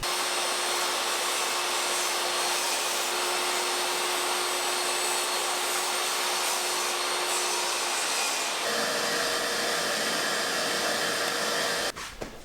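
A wooden cabinet panel is cut to size on a shop-made jig, with a loud continuous saw whine and hiss that shifts in pitch partway through before stopping.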